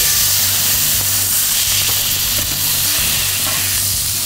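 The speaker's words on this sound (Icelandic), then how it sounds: "halla pönnunni örlítið og moka smjörinu yfir" Butter sizzles and spits steadily in a tilted frying pan as it is spooned over a thin slice of meat, a dense continuous hiss running the whole time at close range with no talking.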